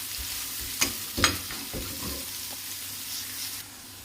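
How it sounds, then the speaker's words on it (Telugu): Chopped onions frying in hot oil in a home kitchen pan, with a soft steady sizzle and a couple of sharp spatula stirs early on, heard alone without talk. "ఆనియన్ వేసుకుని బాగా ఫ్రై చేయాలి."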